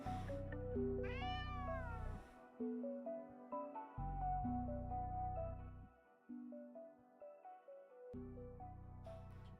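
A talkative pet cat meows insistently and close to the microphone, a run of drawn-out and shorter meows in quick succession with a background tone underneath.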